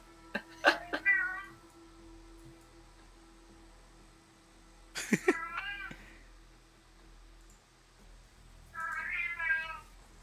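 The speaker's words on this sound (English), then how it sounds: "You got a cat over there?" A pet cat meows three times, close and clear, each a short drawn-out cry separated by quiet pauses in an otherwise still room.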